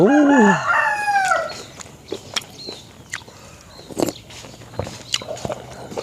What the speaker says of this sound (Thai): เสียงไก่เขามาไก่เขามาแล้ว